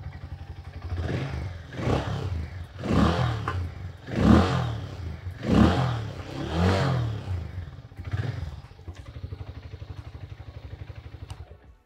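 Hero Mavrick 440 motorcycle revved repeatedly in several rising and falling bursts over a deep, throaty idle, loud and close, settling back to a steady idle near the end.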